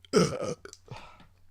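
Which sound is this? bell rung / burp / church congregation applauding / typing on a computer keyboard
burp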